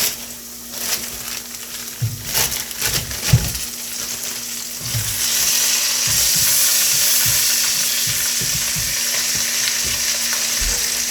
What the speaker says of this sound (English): My onions for my tikka masala are about done, so I'm going to go ahead and add my chicken to this.